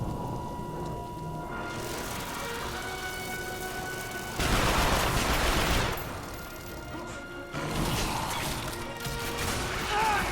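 Flash bangs and gunfire in The Darkness II, with bursts of loud crashing blasts and a spray of fire between stretches of lower game noise, each burst harsh and close.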